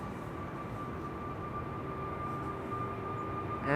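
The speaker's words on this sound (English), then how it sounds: "A321neo coming this way." Jet engines of an Airbus A321neo moving on the ground at Amsterdam Schiphol Airport, a steady distant roar with a whining tone that swells slightly near the end.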